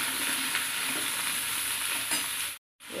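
Chopped onion sizzles loudly and steadily in hot oil, a dense close frying hiss that cuts out briefly near the end, with no voices.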